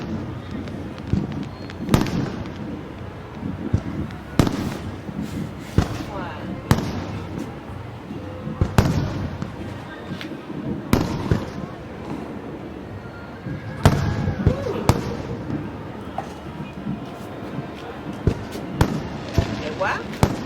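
Fireworks bursting over the Saigon sky at a 30 April 2025 celebration, with repeated sharp booming blasts at irregular intervals over a continuous crackle, while voices are heard nearby.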